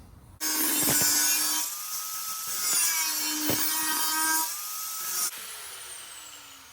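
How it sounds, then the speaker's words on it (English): Angle grinder cutting a series of notches into metal on an XR600R scrambler build, a loud steady high whine with harsh grinding bursts as the disc bites in, easing between cuts and then spinning down. "I'm going to cut a series of notches with the grinder in here like this"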